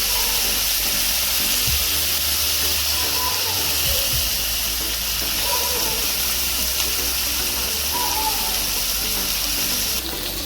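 A steady hiss of steam and bubbling water as stuffed capsicums steam in a covered pan continues throughout, with a few soft low knocks partway through.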